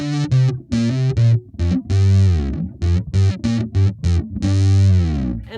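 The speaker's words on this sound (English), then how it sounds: "I will use a chorus because I like the effect more. So let's hear the chorus very quickly." Synth-style electric bass run through a chorus effect, punchy staccato notes and short riffs with a thick, shimmering, slightly distorted tone, played loud and close with brief gaps between phrases, no talking.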